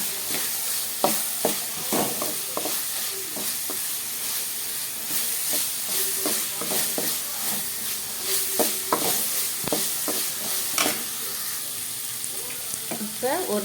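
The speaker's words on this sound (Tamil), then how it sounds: "இஞ்சி நல்லா வணங்கட்டும்." Ginger and onions frying in a pan, a steady close sizzle and hiss with repeated scraping stirs of a spoon throughout.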